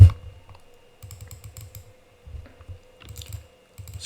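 Quick bursts of keystrokes on a computer keyboard while coding a website, coming in short rhythmic runs separated by brief pauses, close and clear with no talking.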